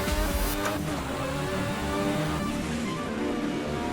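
An F1 race car engine accelerates down a straight with a loud, continuous, high-pitched roar that holds steady from start to finish, close and alone.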